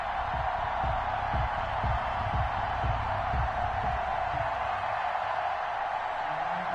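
Stadium crowd noise from an NFL video game on PS4 before an Arizona Cardinals vs Miami Dolphins kickoff: a steady, loud roar runs throughout, with rhythmic thumping pulses, likely stomping or clapping, in the first half.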